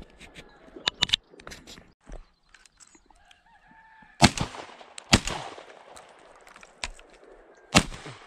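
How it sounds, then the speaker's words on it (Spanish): Distant gunshots ring out in the countryside during a November thrush hunt, several sharp broadband reports spaced irregularly across the stretch with faint rustling and bird sounds between them. "De momento se ha escuchado muchísimo tiro por los alrededores"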